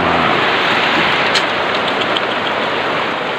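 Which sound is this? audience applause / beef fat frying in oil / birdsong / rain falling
rain falling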